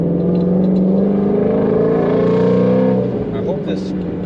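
A 2020 Ford Mustang GT350R with a naturally aspirated 5.2-liter flat-plane-crank V8 revs loudly and close by, its rising, steady engine note sustained for several seconds before easing slightly near the end.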